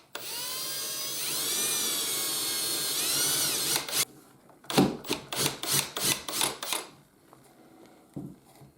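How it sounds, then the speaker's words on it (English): A power drill whines loudly and steadily for about four seconds, then stops and gives a series of short, sharp bursts. "We are on step 1, drilling the hole."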